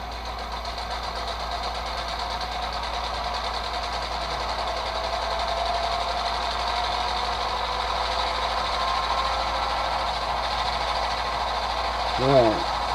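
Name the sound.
HO model locomotive sound decoder engine revving through an iPhone speaker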